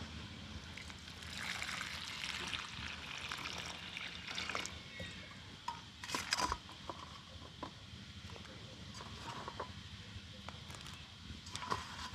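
Water poured into a pond as vegetables are set out during a household ritual on the last day of Ashwin, heard as a close, soft splashing trickle with outdoor background noise.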